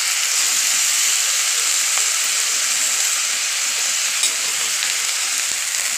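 Fresh green chickpea leaf sabzi sizzles loudly as it is stirred and fried in a pan, a dense, continuous hiss close by with faint scraping of the stirring, and no talk.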